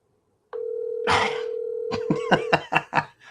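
A steady telephone dial tone hums alone from about half a second in while a call is placed back to a radio caller, then brief coughs and laugh-like bursts break in near the end.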